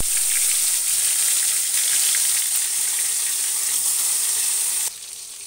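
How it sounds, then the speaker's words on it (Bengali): Parshe fish sizzling as the pieces are slipped one by one into hot oil in a wok, a loud, steady, bright frying hiss throughout that drops to a quieter sizzle near the end. "মাছে যখন নুন হলুদ মাখানো হয়ে গেছে, এদিকে ওভেনেও আমি তেলটা কড়াইতে দিয়ে গরম হতে বসিয়ে দিয়েছিলাম। এবার একে একে তেলও গরম হয়ে গেছে। এবার মাছগুলোকে আমি একে একে ছেড়ে দেবো।"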